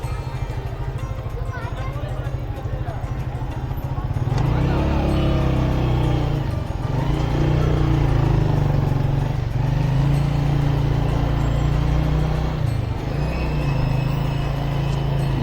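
Stationary road traffic jam in Naran, Pakistan, in hot weather: a steady low engine rumble from idling cars and motorcycles, growing fuller and louder after a few seconds and holding close and continuous throughout.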